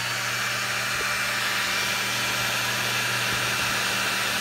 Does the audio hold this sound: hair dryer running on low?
yes